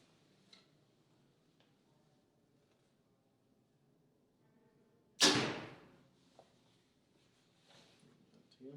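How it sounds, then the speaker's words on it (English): A 2023 Mathews Phase 4 compound bow fires an arrow: one sharp, loud release snap with a quick decaying thrum, after a quiet stretch of faint background noise and soft ticks. "it still sounds like a bow going off"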